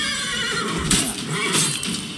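A horse neighs in The Witcher video game, a couple of short whinnying bursts over steady outdoor ambience and faint background noise.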